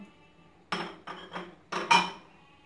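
A spoon clinks and scrapes against a metal bowl while mixing salt, cumin and chilli into a potato and onion filling, four or five sharp close knocks in a loose rhythm over a quiet background.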